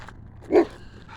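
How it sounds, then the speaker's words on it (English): A single short dog bark, close and clear, over quiet background. "Can you walk by there without the dog screaming at you?"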